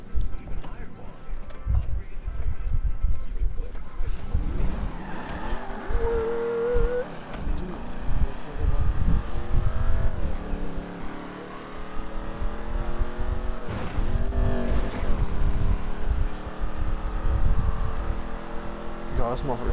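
Mustang driven in Grand Theft Auto V, its engine droning steadily and rising and falling in pitch through gear changes, with game sound effects and a voice talking over it throughout.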